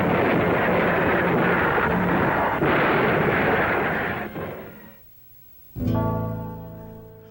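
Big guns of a World War II US Navy warship firing at night, a loud, sustained roaring barrage that fades into near silence before a fresh heavy blast bursts out and rumbles away, close and powerful.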